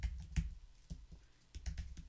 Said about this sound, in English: So I'll type that into Google.